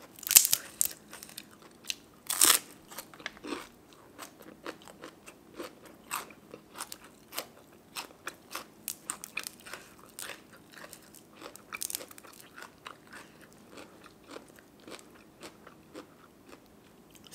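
Crisp, close crunching bites and chewing of raw cha-om and spicy papaya salad, with irregular loud crunches at first settling into steady softer chewing, no talking.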